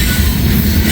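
A massive heavy freight train with distributed power and helper locomotives climbs a long grade, a loud, steady low rumble of engines and rolling rail cars close by, with no break in the sound.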